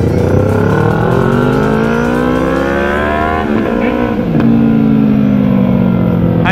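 Several motorcycles, among them Yamaha XJ6 and MT bikes and a Honda CB1000, revving hard together at a motorcycle club anniversary ride in Parauapebas, loud overlapping engine roars climbing and dropping in pitch close by.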